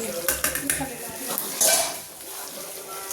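Panjiri with fried gond is stirred in a metal pan, giving a quick run of close spoon clinks and scrapes against the pan, followed by softer stirring.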